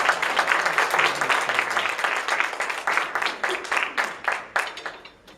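A small audience at a church open mic night claps for a performer coming up, a close, brisk burst of handclaps that thins into scattered individual claps toward the end.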